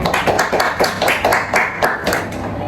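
A small group of students claps for a classmate in a guidance-counselling session, loud uneven bursts of hand claps close by, no talking over them.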